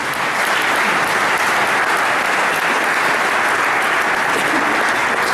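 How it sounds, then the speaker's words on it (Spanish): Loud, sustained applause fills a church hall during a Sunday mission service, a dense, even wash of many hands clapping close by from start to finish. "Un aplauso, por favor."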